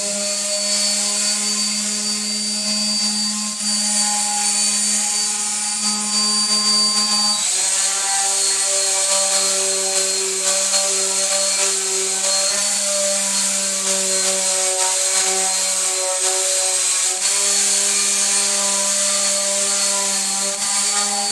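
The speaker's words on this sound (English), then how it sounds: "we're going to give it a light sanding with some 120 grit." A power sander whirs steadily and loudly on a wooden cabinet with 120-grit paper, with a sustained tonal drone that shifts slightly in pitch as pressure changes.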